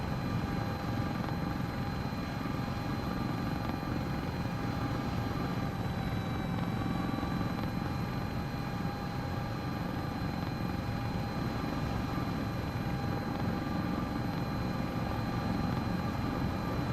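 An EMS helicopter flies in to land on a road cleared by the fire department, its rotor and turbine producing a constant, dense roar with steady whine tones, loud and unbroken throughout with no talk.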